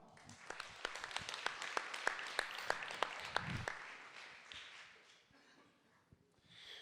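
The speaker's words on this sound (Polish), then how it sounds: "Ogromne brawa" Applause at a foundation event thanking the Industrial Development Agency board, a run of distinct, sharp claps in an uneven rhythm, fairly faint and distant, tapering off into quiet room sound.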